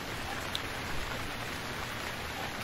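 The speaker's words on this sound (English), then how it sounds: "the rain is here to rain on our parade" Steady rain falls in the survival video game Stranded Deep, a continuous hiss of drops on surfaces at an even level with no voices.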